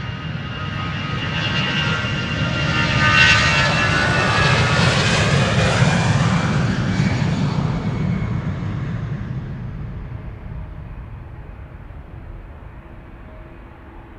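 A departing aircraft at Amsterdam Schiphol Airport roars loudly up close as a steady jet engine rumble and whine. The noise swells over the first few seconds, then slowly fades as the plane moves away.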